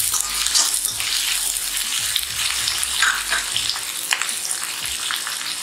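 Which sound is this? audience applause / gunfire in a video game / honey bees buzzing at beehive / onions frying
onions frying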